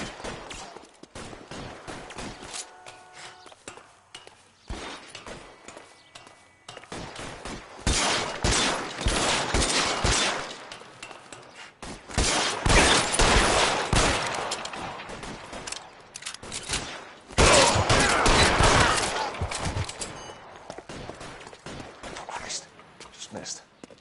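Bursts of gunfire in the video game L.A. Noire, loud repeated volleys of shots clustered into several dense stretches, with talk heard between them.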